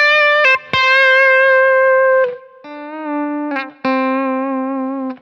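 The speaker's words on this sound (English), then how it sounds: "So you can add quick some higher distortion." Electric guitar with heavy high-gain distortion played through a Kemper Profiler: loud sustained notes and bends, with a couple of sharp pick attacks and brief breaks between phrases, and no talking.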